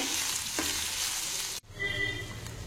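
Raw mango pieces with dried red chillies and curry leaves sauté in a pan with a continuous, fairly quiet frying hiss that briefly cuts out, then resumes.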